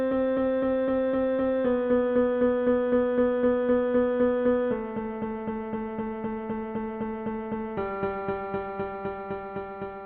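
Sonified notes standing for the salmon in today's Columbia River: a thinner, quieter sustained tone that steps down in pitch across four stages, with soft pulsing repeats and no talking.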